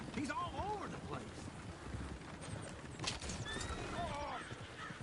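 Horses whinny repeatedly while hooves clop over wind and rough outdoor noise in the Red Dead Redemption 2 video game, several neighs rising and falling across the span near a coach, with voices talking underneath.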